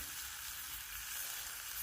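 Bacon frying in a pan at a night-time hammock camp, a steady, close hiss and crackle of fat that carries on unbroken with no talking.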